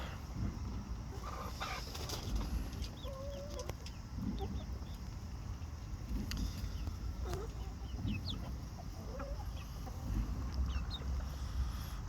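Young Brahma chickens and grown chickens cluck and murmur intermittently in a large coop against a steady outdoor background, with scattered short calls near and far.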